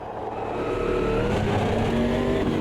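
Race car engine in the sim racing game Automobilista 2, droning steadily and loud throughout with a sustained tone that shifts slightly in pitch, no speech over it.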